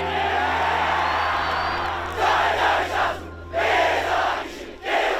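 A school crowd at a St Joseph's Nudgee College rugby match chants a war cry, with loud massed voices bursting out in rhythmic shouted phrases separated by short pauses.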